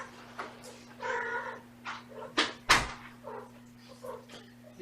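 Several kittens mew in short, high, overlapping cries that rise and fall, close to the microphone, over a steady low electrical hum.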